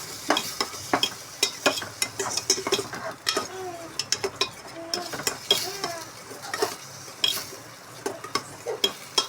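Vegetables for a Tamil kootu stir-fry sizzle in a pan while a spoon scrapes and clinks against the metal in irregular close strokes, with no talking.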